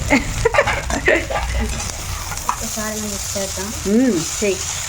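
Vegetable Manchurian egg noodles sizzle while stir-frying in a pan, with scrapes and tosses of a spatula and someone talking over the cooking.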